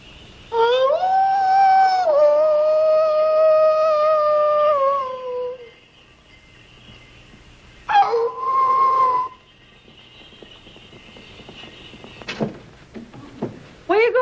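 A man imitates a wolf with long wavering howls in a 1938 film comedy: one sustained howl lasting several seconds, then a shorter second howl, followed by a few faint thumps and knocks.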